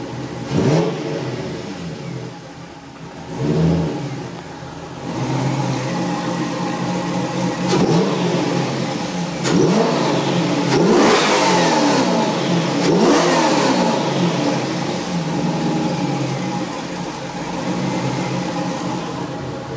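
A Corvette V8 engine close by, revving up in several bursts before settling into a loud, choppy, uneven idle from a lumpy cam.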